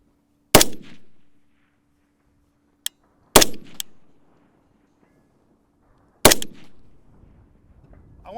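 Rifle shots fired in spaced doubles on a scoped carbine course: three sharp, loud reports, each followed by a brief echoing decay, with a faint click between, over a quiet outdoor backdrop.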